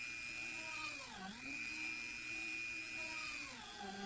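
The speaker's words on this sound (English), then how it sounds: "I have this Dremel running at half speed" Dremel rotary tool running at half speed, drilling holes through leather backed by a spare leather piece, gives a steady high-pitched whine with a brief dip in pitch partway through as the bit bites, continuous and close.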